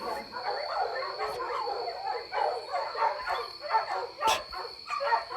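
Dogs bark excitedly in a series of quick, irregular barks and yips at moderate distance, repeating throughout against a steady background hum.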